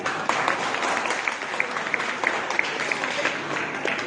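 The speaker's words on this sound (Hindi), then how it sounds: "तो हम चाहते हैं सबसे पहले आप टीचर्स के लिए ताली बजा दें।" Audience applause for the teachers at the fourth convocation ceremony of a Lucknow industrial training institute, a steady dense wash of many hands clapping that holds at an even level throughout, with no voices over it.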